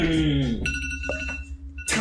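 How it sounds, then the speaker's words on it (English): A phone alarm going off during play of a Friday Night Funkin mod, a bright electronic ringing that enters after a short stretch of talk and sounds in steady repeated tones, with voices and music around it. "That was my alarm."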